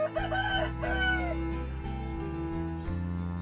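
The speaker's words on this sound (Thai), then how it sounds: "เสียงไก่ขันเต็มเลยครับ" Roosters crow repeatedly, several overlapping calls at moderate distance in a rural village, with clucking fowl in the background and no talking.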